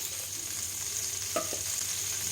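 Whole spices start tempering in hot oil in a pan for a bottle gourd dish: a soft, steady sizzle with a brief louder crackle and scrape near the middle.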